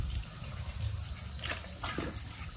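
Water poured over vegetables in a home kitchen to wash them, a soft gushing, splashing flow with a few louder bursts, close and fairly quiet.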